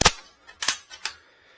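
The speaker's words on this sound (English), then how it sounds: "Pull the trigger, pop out the round, put manual load the next round in, just set it down the shelf, put bolt forward" A French Gras single-shot black powder rifle is bolt-cycled and dry fired. Three sharp, close metallic clacks ring out, each snapping loud and then dying away quickly.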